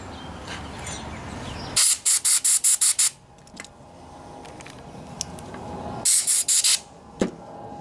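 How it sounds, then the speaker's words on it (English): Compressed air blasts into the oil seal area of a Tecumseh lawnmower engine in two clusters of short, sharp hissing bursts, loud and close, with quiet workshop background between them. "I'm going to blow some air in there and make sure to wipe it out really good"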